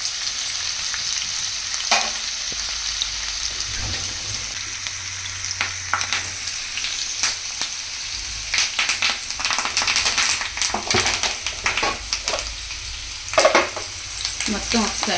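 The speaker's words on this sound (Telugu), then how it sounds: "ఆయిల్ కూడా వేడెక్కిపోయింది. ఇప్పుడు నేను ఆనియన్స్ వేసేసుకుంటున్నాను" Chopped onions and green chillies fry in hot oil for a curry, giving a continuous close sizzle broken by clattering stirring, scraping and tapping of a spoon against the pan.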